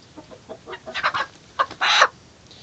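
Chickens cluck nearby in a short series of soft, scattered calls, ending in one louder, drawn-out squawk; the birds are being treated for pad lesions on their feet.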